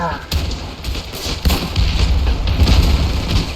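Repeated grenade blasts in the Ravenfield game during a World War I trench battle, booming in heavy bursts that overlap one another, while someone talks excitedly over them.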